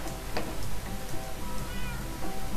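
Cat meowing in the Minecraft video game, a short meow near the start over a busy bed of game sound, with faint ticking and no talk.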